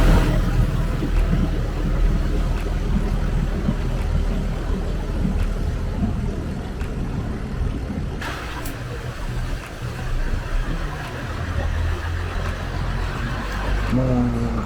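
A steady, loud jet boat engine drone with a low rumble, heard early morning from a Bangkok hotel room, continuing without pause throughout.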